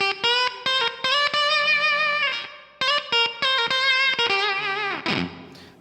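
An electric guitar runs through a KingTone MiniFUZZ Si silicon fuzz pedal, giving a spitty, Velcro-like sputtering tone as short chords and notes are strummed in choppy rhythmic bursts, played alone without talk.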